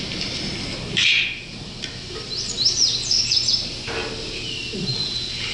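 Young nestling birds on about day 19 give several short, high chirps and squeaky calls, scattered bursts over a soft background hiss.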